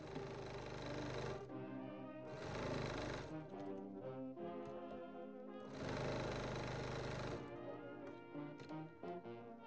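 A sewing machine stitches closed the sides of a cross-stitch pillow, its motor running in steady bursts with brief pauses between runs, close and fairly loud throughout.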